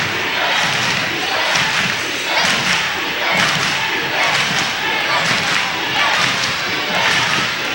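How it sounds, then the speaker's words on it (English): A home crowd of student fans at a high school basketball game chants loudly and steadily for defense, a dense wall of voices with rhythmic surges and thumping that continues throughout. "Oh, they're getting the whole crowd into it."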